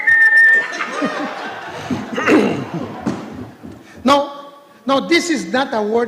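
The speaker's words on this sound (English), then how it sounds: "Say a name and I'll whistle." A man on a live news broadcast whistles in short bursts, breaking off between them for speech and some chuckling nearby.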